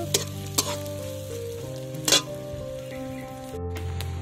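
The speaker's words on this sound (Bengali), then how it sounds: "এবারে আমি এর মধ্যে দিয়ে দেব কুচানো নারকেল। নারকেলটাকে দিয়ে একটু নাড়াচাড়া করব।" Grated coconut sizzles in hot white oil in a pan, a steady frying hiss broken by a few sharp scrapes of stirring, close and fairly loud with no voices.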